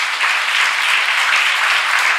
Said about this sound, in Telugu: కొట్టండి ఒకసారి చప్పట్లు